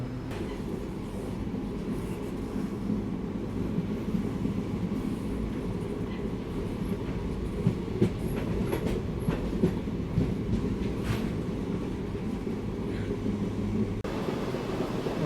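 Train 20687 Hubballi–KSR Bengaluru running, heard from inside as a continuous rumbling roar with rhythmic clickety-clack of wheels over rail joints and occasional faint squeals.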